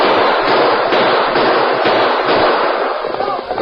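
Dense, loud gunfire rattles almost without pause in a 1947 Lone Ranger radio drama, as riders fire a final burst during a battle on the open prairie.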